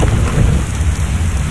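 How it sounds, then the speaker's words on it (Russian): Green acid rain falling in the video game ARK Genesis, a steady, dense rain hiss with low rumbling underneath, continuous and fairly loud throughout. "Зеленый кислотный дождь у нас здесь"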